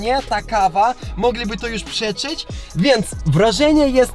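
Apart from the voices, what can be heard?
No everyday noises stand out.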